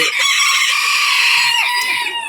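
A loud, close bantam rooster crow stretched across the whole moment, with a few clucking notes woven in.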